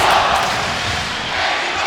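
A boxing arena crowd at the Tim Bradley vs Juan Manuel Marquez fight chanting for Marquez, a broad, steady roar of many voices filling the hall.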